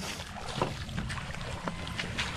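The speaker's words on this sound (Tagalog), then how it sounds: "mabilis yung takbo ng bangka natin" A fast-moving wooden outrigger fishing boat crossing calm sea off Mindoro in the Philippines, giving a steady close wash of water and engine rumble with brief splashes and no talk.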